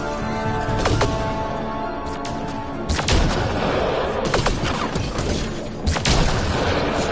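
Gunfire and heavy booms from a Mass Effect Andromeda firefight on PS4, with loud shots at irregular intervals standing out over a dense, continuous roar of battle ambience.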